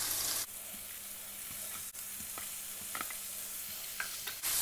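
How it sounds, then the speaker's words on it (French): Shrimp sizzle in tomato sauce in a pan, a steady close frying hiss with scattered stirring clicks and scrapes throughout. "On va faire revenir au moins 5 minutes."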